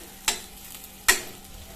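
A spoon stirring spiced potato-eggplant curry in a pan, with two distinct scraping clinks about a second apart over a quiet, faint background sizzle.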